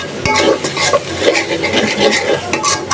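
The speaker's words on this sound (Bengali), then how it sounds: "মশলাটা ভালোভাবে এই যে কষায় নিলাম" Spice masala frying in a pan for a raw jackfruit curry with dried fish, stirred briskly with repeated scraping strokes over a loud continuous sizzle, close and without talk.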